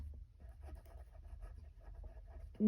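Pen or chalk scratches out a maths solution for a class 7 lesson, soft quick strokes and taps in short irregular bursts, faint and close.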